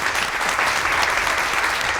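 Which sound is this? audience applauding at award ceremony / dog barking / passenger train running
audience applauding at award ceremony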